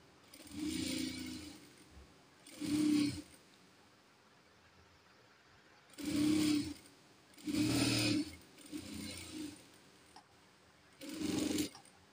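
A sewing machine runs straight stitching along a princess-cut blouse seam in five or six separate bursts, each lasting one to two seconds with short quiet pauses between them. The machine sounds close and no one talks.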